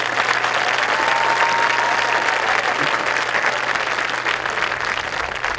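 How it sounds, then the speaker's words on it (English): A crowd at a high school graduation ceremony gives a sustained round of applause, dense steady clapping from a large audience that tapers slightly at the end. "Let's give these students a round of applause."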